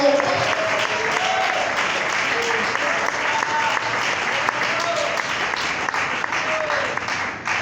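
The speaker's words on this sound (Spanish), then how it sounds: "Den ese aplauso fuerte a nuestro Dios" A church congregation applauds loudly for God during a sermon, a sustained, dense burst of clapping from many hands that holds steady and close throughout, with faint voices underneath.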